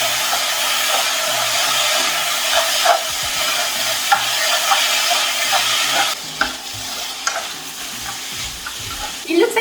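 Japchae noodles with soy sauce, sugar and pepper are stirred and tossed in a hot pan, giving a steady sizzle with scattered scraping clicks from the utensil, close and continuous.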